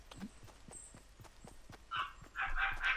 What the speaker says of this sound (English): It's not even a cute bark, though. It's a terrifying bark that I would have in nightmares.